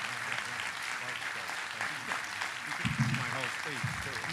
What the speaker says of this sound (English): Let's give Rich a big round of applause